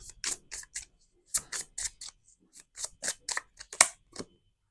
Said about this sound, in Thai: เดี๋ยวขอเปิดไพ่เช็คพลังงานความสัมพันธ์ของกองที่หนึ่งก่อนนะคะ